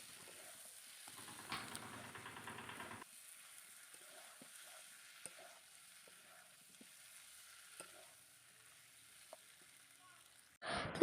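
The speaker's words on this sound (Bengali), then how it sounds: "মাংস দেখো কষানো চলছে, তো একটু কষিয়ে নিয়ে তো জল ঢেলে দেবো" Chicken pieces sizzle quietly while being sautéed in a pan for a red chicken curry, with a soft, steady fry broken by a brief scraping stir early on and a few small clinks.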